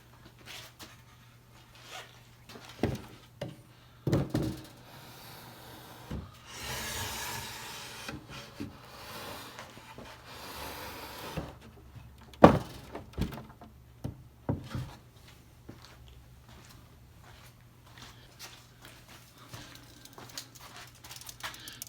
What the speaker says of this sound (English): So let's put that slatted rack in.